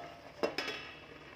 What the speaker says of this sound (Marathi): मॅगी टाकून झाल्यावर आता त्यावर मी झाकण ठेवत आहे।